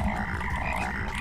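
Frogs in the video game Rain World croak in a steady dense chorus, a continuous layered rasping drone that fills the whole moment at close, even loudness with no pauses.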